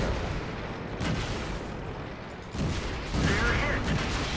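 World of Tanks tank cannon firing on a friendly tank, heavy booming blasts at intervals over a rumbling battlefield, with a voice talking over them.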